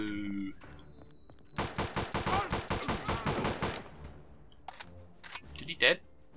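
Rapid burst of automatic fire from a scoped light machine gun in Return to Castle Wolfenstein, about a dozen sharp, evenly spaced shots ringing out loud and close, followed by a few scattered lighter clicks and thuds.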